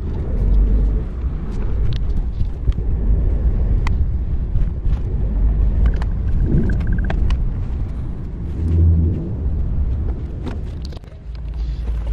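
A white Toyota Avanza Veloz 1.3 automatic rumbles steadily from inside the cabin as it rolls up to a dealership and parks, with low engine and road drone, wind buffeting and a few faint clicks, no talking.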